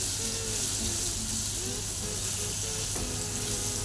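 Raw green mango methamba cooks in a pan, a soft constant sizzle and bubbling close by, with gentle intermittent scrapes as the mixture is stirred.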